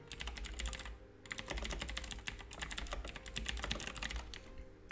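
Dense, rapid clacking of a computer keyboard being typed on continuously, close and steady with only a brief pause early on.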